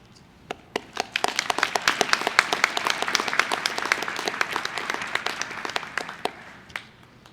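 Applause at a fall graduation ceremony for county award winners: a crowd clapping steadily and fairly loudly, swelling after a few scattered claps and then thinning out toward the end, with no talk over it.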